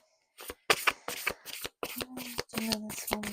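Tarot cards being shuffled up close in a quiet room, a run of crisp riffling bursts followed by a card being pulled from the deck, with a faint soft voice at the end.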